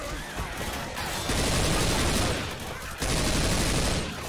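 Dense gunfire in the zombie shooter Left 4 Dead 2 comes as loud, sustained rattling bursts with a brief lull near the middle, and a voice speaks under the shooting.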